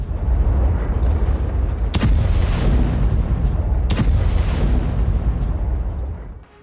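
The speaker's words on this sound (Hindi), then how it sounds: "वीडियो में डिमोना सेंटर पर बमबारी दिखाई गई है।" Bombing at the Dimona nuclear center produces a loud, continuous low rumble of explosions, with two sharp blast cracks standing out about two seconds apart before the roar fades.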